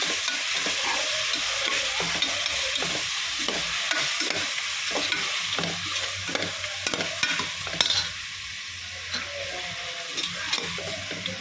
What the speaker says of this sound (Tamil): இப்போ இதை வதக்கிக்கலாம்.